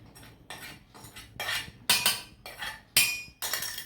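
Stir-fried garlic being scraped from a pan into a metal pot makes a series of eight sharp metallic clinks and scrapes at roughly half-second intervals, close and fairly crisp, with no talking.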